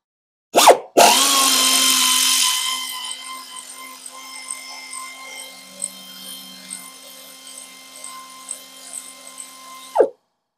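Power tool spinning off a 13 mm bolt near the transmission of a Chevy Trailblazer during EGR work, a high whine that starts loud after two sharp clicks, settles into a steady hum, then stops.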